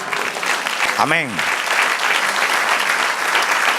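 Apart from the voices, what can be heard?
church congregation applause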